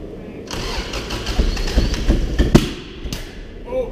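A Subaru rally car engine cranks and catches at about half a second, then runs roughly with uneven thumps and a sharp pop near the middle, loud and close with no talk over it.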